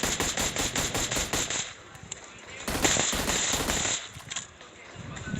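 UMP submachine gun and shotgun fire in the PUBG Mobile video game: rapid, evenly spaced automatic bursts come first, then a few louder, heavier blasts after a short pause. The firing is close and loud.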